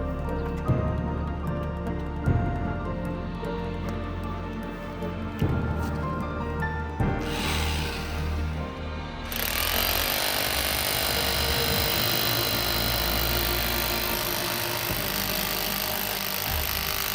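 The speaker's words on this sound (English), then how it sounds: "Now let's start up this 2200-watt demolition hammer." A power tool hammers with a series of sharp thuds, then a loud 2200-watt electric demolition hammer powered by a homemade solar panel starts and pounds continuously at a steady rapid rate.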